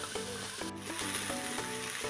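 Cauliflower samosa filling with spices sizzles and fries in a hot pan while a utensil stirs it in repeated scraping strokes, close up and with no one talking.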